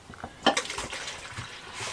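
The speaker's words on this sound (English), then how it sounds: "So get a jug, cold water," Cold water runs into a 2-litre measuring jug in a narrowboat kitchen, a soft, uneven splashing and trickling that is fairly faint and heard alone.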